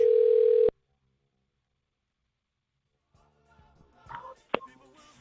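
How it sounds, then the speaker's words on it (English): A telephone ring tone on an outgoing call, one steady ring burst followed by silence, after which faint handling noises and a voice start to come through the line. "Oh, it's ringing."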